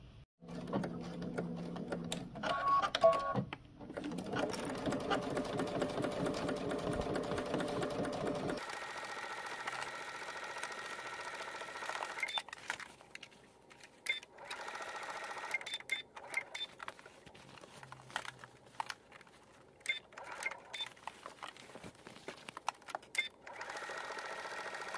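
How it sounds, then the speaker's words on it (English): A sewing machine stitches a narrow hem close to the fabric edge, a long continuous run of stitching at first, then quieter intermittent bursts and handling clicks, close and with no talk. "take it to the machine and stitch it close to the edge"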